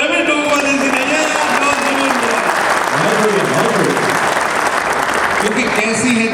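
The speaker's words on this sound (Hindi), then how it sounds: "तालियां कमजोर है" An audience at a comedy show on traffic rules and helmet safety claps continuously and loudly throughout, with crowd voices mixed into the steady applause.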